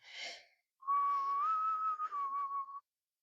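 A single clear whistle, held for about two seconds with a slight wavering pitch, close by, following a brief breathy burst.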